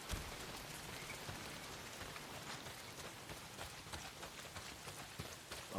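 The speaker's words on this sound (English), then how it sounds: "it's pissing down rain" Heavy rain pours down in the open-world game Days Gone, a steady dense hiss with scattered drop impacts running unbroken throughout at a fairly low level.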